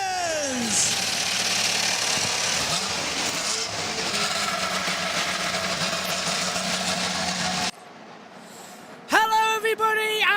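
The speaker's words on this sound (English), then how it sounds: "Drivers, start your engines!" IndyCar race car engines fire up at the Nashville Grand Prix at Nashville Superspeedway, a dense, loud mechanical roar with rising revs that holds steady for several seconds before cutting off, followed by a brief voice.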